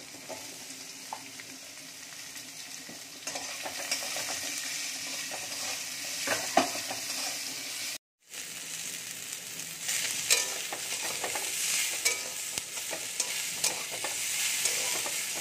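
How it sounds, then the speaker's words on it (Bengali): Chopped ginger and onion sizzle steadily in hot oil as a utensil stirs and scrapes the pan, with a brief silent gap midway. "এগুলোকে আমি 2 থেকে 3 মিনিট একটু ভেজে নেব"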